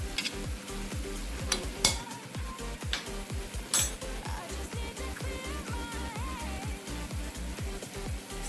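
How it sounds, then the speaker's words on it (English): Onions cooked down with sugar and apple cider vinegar sizzle steadily in a pan, with repeated rhythmic scrapes and clinks of a utensil stirring against the metal throughout, close and moderately loud. "Just caramelizing the onions."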